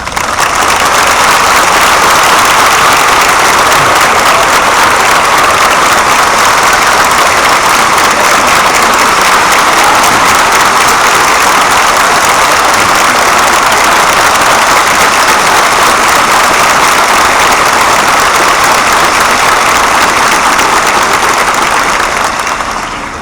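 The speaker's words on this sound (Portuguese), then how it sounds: "Vamos receber com aplausos de ternura Divaldo Pereira Franco." A large audience in a university auditorium applauds to welcome a speaker, dense sustained clapping that stays loud and even throughout before tapering at the very end.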